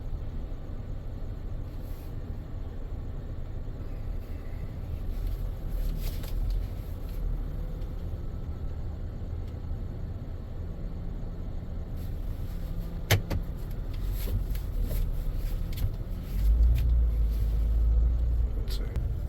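A car rolls out of a repair shop after an AC condenser swap, a steady low engine rumble and road noise running throughout, with a sharp knock near the middle and a louder rumbling swell toward the end.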